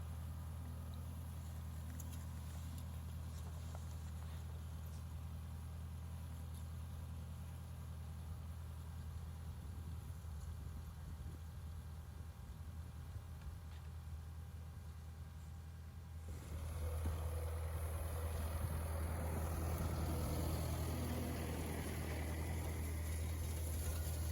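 A tractor engine drones steadily while raking hay windrows on a small farm, a constant low idle-like hum that grows louder and rougher partway through as the load or throttle rises, with no talking.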